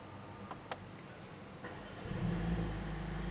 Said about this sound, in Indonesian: Halus, suara mesinnya halus.